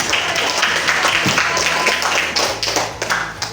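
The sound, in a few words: class applauding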